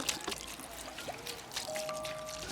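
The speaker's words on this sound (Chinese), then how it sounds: "来1瓶生抽" Soy sauce poured from a bottle over sun-dried radish mixed with chili, garlic, ginger and Sichuan pepper, giving a short steady liquid trickle close by with soft kitchen background noise.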